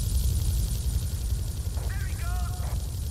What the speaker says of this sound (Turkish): Abi şu helikopterin zaten sesi de böyle kafada şey yapıyor.